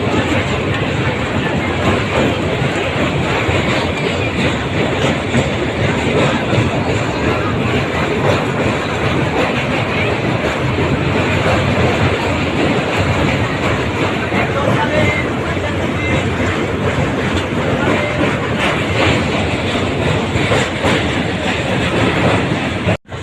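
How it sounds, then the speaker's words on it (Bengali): A train rolls across a bridge over a river near Kolaghat, a loud, steady rumble with faint rhythmic clatter running continuously, with voices murmuring underneath. "এখন আমাদের ট্রেন ব্রিজের উপর থেকে যাচ্ছে, একটা নদীর উপর থেকে"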